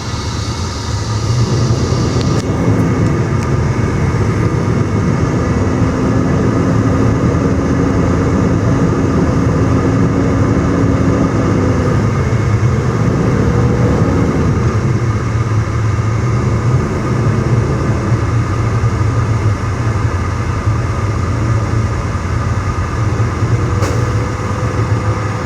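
Truck engine idling and running at up to 1500 RPM during a governor cutout test in the cab, a steady low drone with a faint whine rising and falling, continuous and close throughout.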